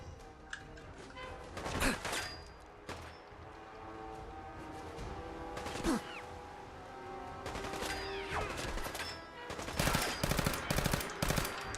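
Bursts of gunfire in Fallout 4, shots fired through a vehicle's metal hull, coming in scattered clusters and a rapid volley near the end over a mechanical, creaking game background.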